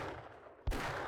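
A single gunshot in the zombie survival game 7 Days To Die, a sharp close blast that breaks a quiet stretch and leaves a lingering ringing tail.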